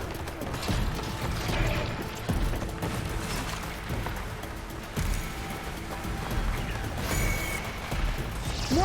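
Robot machines moving and clanking in the Horizon Forbidden West video game, a dense, continuous mechanical rumble with grinding, ratcheting and impact-like bursts throughout.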